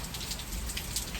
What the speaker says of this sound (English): I literally did not expect it to rain today.